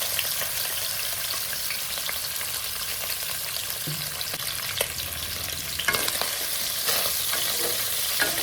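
Mutton sizzling and frying in a pan with whole garam masala spices, stirred now and then, a steady close hiss with scraping clatters of the spoon toward the end.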